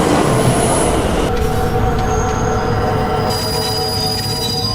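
A train runs in a film scene, its wheels squealing loudly and continuously against the rails with a steady rumbling roar beneath.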